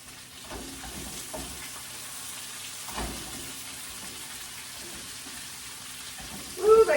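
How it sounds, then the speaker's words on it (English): Sauteed vegetables sizzling in a pan as they are stirred, a soft continuous frying hiss with faint scraping and clinks, ending in a brief louder clatter of the utensil. "let me go over here and stir my vegetables real quick."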